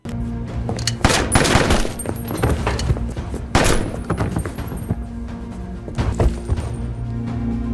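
Gunfire erupts in a tense TV drama shootout, with several sharp, loud shots in scattered bursts over a steady low ambient hum.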